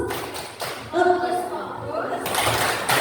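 Children in a school classroom clap out a short rhythmic chant in quick bursts, with young voices mixed among the claps, fairly close and moderately loud.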